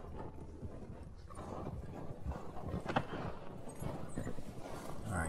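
Horse hooves clip-clop in Red Dead Redemption 2, a steady, moderately loud rhythmic plodding over a busy game soundscape near an outlaw camp, with no talk.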